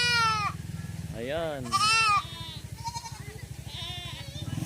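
Goat bleating on a rural farm, several wavering bleats of varying pitch close by, with someone speaking briefly over them.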